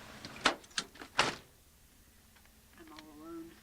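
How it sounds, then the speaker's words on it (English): A car door opened from outside, heard as a few sharp close clunks and latch clicks in quick succession, then a quieter stretch with a faint voice murmuring toward the end. "I'll come and get your door"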